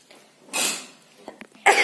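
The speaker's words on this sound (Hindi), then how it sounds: "क्योंकि खांसी बहुत ज्यादा हो रहा है" Coughing in cold weather: a short burst around the middle and a sharper, louder one at the end, close to the microphone and spaced by a quiet pause.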